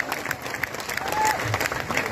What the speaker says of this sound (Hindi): सभी बच्चे खड़े होके एक बार आरडब्ल्यू वाले के लिए ताली बजाएंगे, बहुत तगड़ी ताली।